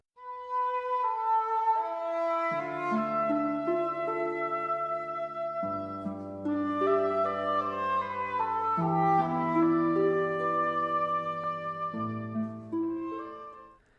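A piece from the Final Fantasy IV game soundtrack, heard as a slow, tender melody over sustained bass notes and chords, evenly paced across about fourteen seconds with no talking.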